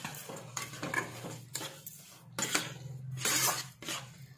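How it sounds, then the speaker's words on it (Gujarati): A spoon scrapes and clinks against a pan as sugar is stirred into thickened milk for guava ladoo, soft irregular stirring strokes close by. "હવે થોડીક વાર આપણે હલાવીશું ખાંડ જ્યાં સુધી મિક્સ ન થાય ત્યાં સુધી"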